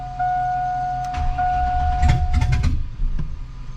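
A Cadillac Escalade engine cranking and stuttering as it struggles to start, with a steady whine, then uneven rough chugging and knocks before it fades, loud and close.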